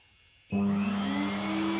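A MediPower professional manicure and pedicure drill spins up together with its dust vacuum, a steady high whirring hum with tonal whine that starts abruptly and holds constant, close by with no talking.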